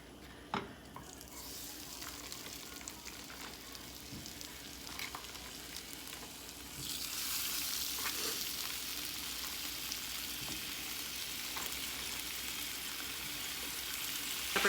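Lamb chops sizzle as they go into a hot oiled pan, a steady quiet frying hiss that swells louder and brighter partway through and then holds, close and without talk.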